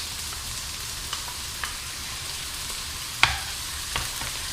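Salted and peppered sea bream pieces frying in a pan, a steady soft sizzle with a few scattered clicks and one sharper knock of utensil on pan.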